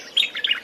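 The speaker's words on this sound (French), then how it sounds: "À l'heure où les oiseaux chantent" A short burst of bright bird chirps and tweets opens a jingle on the Cameroonian CRTV morning radio show, with two or three quick, clear calls and no voices.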